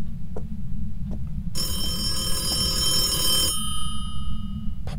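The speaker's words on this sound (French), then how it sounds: "Pourquoi est-ce qu'elle appelle un téléphone décroché?" A telephone rings in the Phasmophobia ghost-hunting game: a bright, sustained electronic ring of about two seconds sits over a steady low background rumble, with faint clicks before and after.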